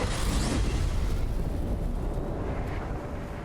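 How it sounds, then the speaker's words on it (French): An explosion in God of War Ragnarök: a loud, broad rumbling blast that fills the mix from the start, then gradually tapers off over about three seconds with no voices. "Oh la belle explosion."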